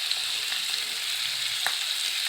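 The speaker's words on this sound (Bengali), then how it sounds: "মশলাগুলো দিয়ে একটু কষিয়ে নেব" Chili, turmeric, coriander and cumin powders sizzle in hot oil for a spicy chicken curry, a constant loud frying hiss with faint stirring taps beneath it.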